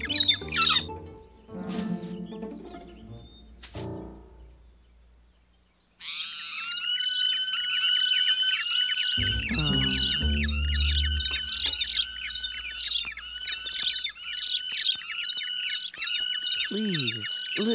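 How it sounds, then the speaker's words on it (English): Loud cartoon birds chirp and squawk in a dense, continuous chorus of rapid high tweets. The chorus starts after a few seconds of other sounds and runs steadily to the end. "Sweet little loud birds! Stop chirping!"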